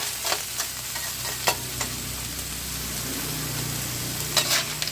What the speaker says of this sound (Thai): หลังจากกระเทียมและที่แห้งหอมดีแล้วเราก็ใส่หอยทรายลงไปผัดนะครับ